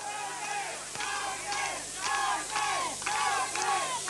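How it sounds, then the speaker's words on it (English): Noble Park supporters at a 1981 senior Australian football grand final chant rhythmically in unison for the Bears, a steady crowd roar with repeated pulses from a distance. "I hear a chant from Noble Park crowd there telling the Bears to go"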